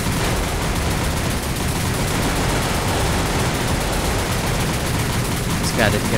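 Anti-aircraft guns open up on an attacking plane in the naval combat game War on the Sea. The fire is a dense, continuous roar of rapid shots that stays loud and steady throughout, with no talking over it.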